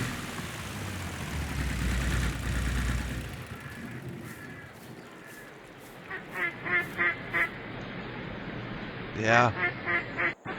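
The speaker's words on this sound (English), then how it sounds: "Oh, I can hear the ducks." Ducks quack on a farm in Farming Simulator 22, a series of short rhythmic calls from the middle of the clip onward, moderately close, following a stretch of low ambient rumble, with a brief spoken word.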